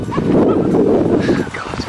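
Dogs in the back of a van give short muffled barks and yips inside the vehicle, close and loud over road rumble, with a voice talking alongside.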